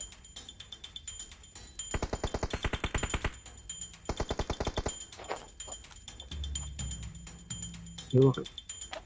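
Rapid bursts of automatic gunfire from the mobile game PUBG Mobile, two long rattling volleys followed by scattered shots, with a player's voice talking over the action and a heavy thump near the end.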